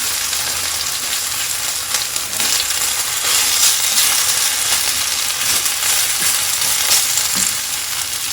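Luffa coated in batter frying in a pan while being flipped back and forth, a steady loud sizzle with occasional scraping and tapping from the spatula, no voices.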